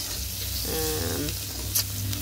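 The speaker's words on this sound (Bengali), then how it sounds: "দেখুন বেশি ভাজবো না" Garlic and green chilies sizzle in a hot pan, a steady close frying crackle with a brief stirring clatter partway through.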